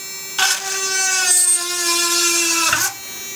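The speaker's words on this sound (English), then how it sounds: "If you can hold the hand drill very firmly, you can just drill the hole." A mini electric hand drill boring a hole, its high motor whine holding steady for about two and a half seconds with a bright rising pitch, then cutting off abruptly. No voices.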